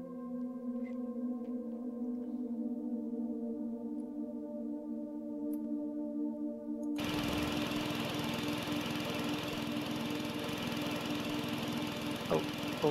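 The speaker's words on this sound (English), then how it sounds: "there's now a motor noise" Low hums and faint tones in the Fingerbones horror game give way midway to an abrupt, loud motor drone that stays steady and grinding through to the end.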